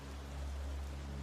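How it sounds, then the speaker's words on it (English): Steady rain hisses softly, blended with the gentle rush of flowing water, an even and continuous wash with no voices. "The sound of flowing water grows nearer with every step, mingling with the steady rain."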